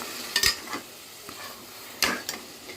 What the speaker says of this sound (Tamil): நம்ம தக்காளி வந்து நல்லா மேஷ் ஆகிற அளவுக்கு நல்லா வதக்கிக்கணும்.